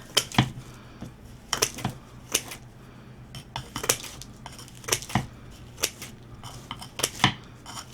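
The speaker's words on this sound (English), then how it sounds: "I just take my old scissors here and just go around the edge and trim these off" Old scissors snip around the edge of a Dollar Tree DIY topiary, giving a series of sharp, close metallic cuts in irregular bursts with short pauses between them.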